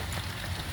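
Steady rain falls outdoors in a continuous, even patter of drops with no voices, heard briefly during roadside car repair work.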